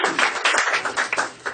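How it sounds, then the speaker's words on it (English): Audience applause for comedians at a roast: dense, steady clapping from a crowd, close and fairly loud, with no voices over it. "give these comedians a big round of applause for coming out and doing this tonight"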